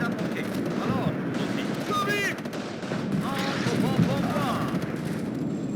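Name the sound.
gunfire and artillery in WARNO video game battle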